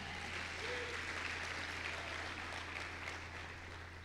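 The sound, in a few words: congregation applauding Jesus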